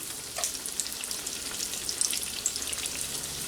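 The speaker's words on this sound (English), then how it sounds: "I don't want to overcrowd my skillet because they're gonna steam more than they will fry" Tomatillos fry in a hot skillet with a steady close sizzle, sharp crackles and pops scattered through the hiss, and no voices over it.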